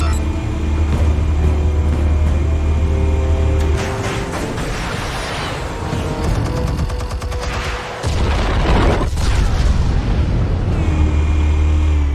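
Explosives detonate in the Batman Telltale game, a dense run of loud booms and crackling blasts over a steady low rumble, sustained and close throughout.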